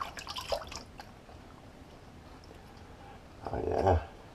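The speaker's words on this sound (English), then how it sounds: "Let me just do a quick rinse and see where I'm at." A razor is rinsed under running water mid-shave, giving brief splashing and dripping bursts at the start and a louder watery gush near the end, with quiet pauses between.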